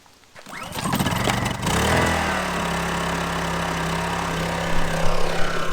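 A Honda dual fuel generator running on gasoline, with the choke slightly on, fires up on a single pull: a brief rattle of the recoil start, then the engine catches and settles into a steady, loud, even hum that carries on to the end.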